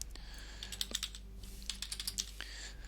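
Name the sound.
typing on a computer keyboard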